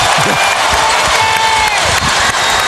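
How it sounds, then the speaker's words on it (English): A basketball arena crowd at a 2002 Lakers–Kings conference finals game applauds and cheers in a loud, dense, continuous roar that holds steady throughout. "This crowd very much back into it."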